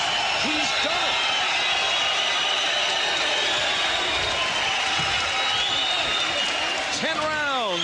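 A boxing video game crowd roars steadily throughout, loud and continuous, under a commentator's voice talking over it.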